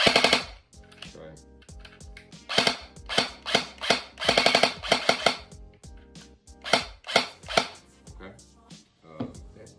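Airsoft M4 rifle, the Matrix DE "Calico Jack", firing in binary trigger mode, giving a shot on pull and release: sharp close bursts of paired and clustered cracks with short gaps between volleys, no talking.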